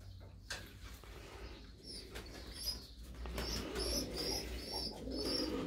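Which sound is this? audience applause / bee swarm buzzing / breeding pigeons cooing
breeding pigeons cooing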